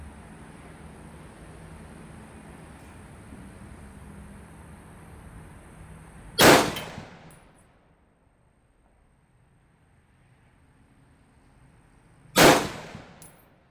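Two loud, sharp M1 Garand rifle shots fired from a bench rest, about six seconds apart, each with a brief decaying echo over a quiet outdoor background.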